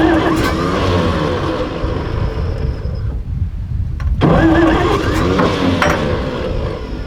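An abandoned WW2 army truck engine cranks and fires into a loud, rough running chug, cuts out briefly into near quiet, then catches again and keeps running unevenly, close by.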